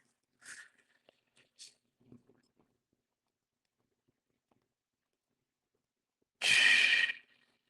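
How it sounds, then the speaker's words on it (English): A single long, loud breath exhaled near the end after a few faint breathy sounds, close and alone with no talk, taken during a guided calming exercise. "So take a deep breath with me."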